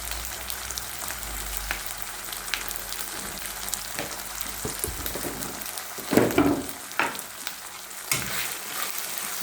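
Ginger garlic paste frying in a pan makes a constant close crackling sizzle, with occasional louder spatters and a brief clatter midway.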